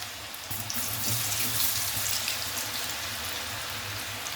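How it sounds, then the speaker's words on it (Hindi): French fries sizzle in hot oil, a continuous loud hiss and crackle that swells after the potatoes drop in, then holds steady with no talking. "ऑयल हो गया है गरम और यहाँ हम अपने फ्राइज जो हैं डाल देंगे"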